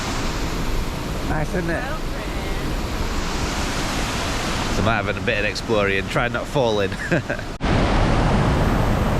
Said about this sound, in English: You can hear the power of the water.